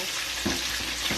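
Fish deep-fries in hot oil, giving a close, continuous bubbling sizzle with a few soft pops.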